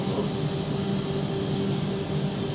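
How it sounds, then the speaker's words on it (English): A Cosworth-built Gordon Murray engine runs steadily on a factory test bed, giving a constant loud mechanical drone with a high whine on top, even and unbroken throughout with no talk. "so that's a Gordon Murray engine on the test bed."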